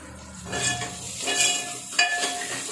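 Onions frying in a pan for a home-cooked soyabean mangodi and capsicum dish, with a steady close sizzle and a few spoon-stirring scrapes and clinks.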